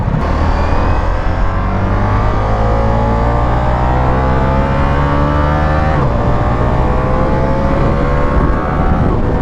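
A Ducati motorcycle engine roars while being ridden, loud and close, with a continuous rising and falling drone and a brief shift partway through, under steady wind rush.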